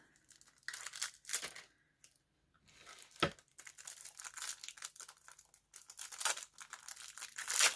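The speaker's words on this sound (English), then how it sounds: "let me see if I can open it with the scissors" Plastic packaging of a makeup brush advent calendar being cut open with scissors, crinkling and tearing in short bursts with pauses between, close up, with one sharp snap partway through.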